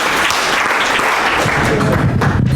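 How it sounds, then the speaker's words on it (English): An audience at a hall of fame ceremony claps all together, a loud, dense burst of crowd clapping that runs continuously rather than as distinct separate claps, with some voices mixed in. "If you can hear me, clap 4 times."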